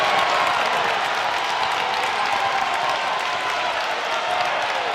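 Basketball crowd at a boys' high school game between Washington and Wheeling Central roars with sustained cheering and applause, a dense, steady wash of noise that stays loud throughout.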